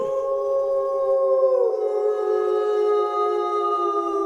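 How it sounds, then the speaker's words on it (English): A long, sustained howl rises and then drops into a steady, mournful tone, loud and alone with no talk. "The howling reminded me of the alarms."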